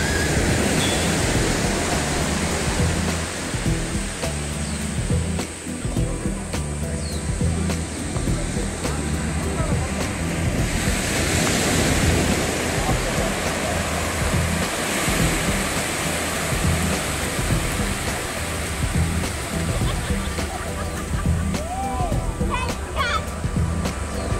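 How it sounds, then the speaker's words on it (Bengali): Gentle sea waves wash ashore at Kalapatthar Beach on Havelock Island in the Andamans, a steady continuous roar of calm surf mixed with wind buffeting the microphone, with voices faintly underneath. "waves are not that much strong but the weather is fantastic"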